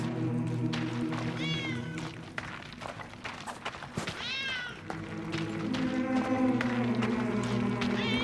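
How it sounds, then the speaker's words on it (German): A cat meows repeatedly in the World War I video game 11-11 Memories Retold, several rising calls sounding close over a steady ambient backdrop with shuffling movement. "Wie zum Teufel kommt die Katze hier rein?"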